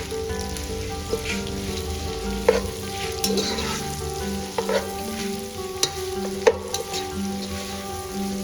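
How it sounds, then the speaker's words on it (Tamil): Sliced onions, about 350 grams, frying in a pan for chicken donne biryani: a steady close sizzle with occasional stirring scrapes and taps, no voices. "ஆனியன் நல்லா ஃப்ரை ஆகட்டும்."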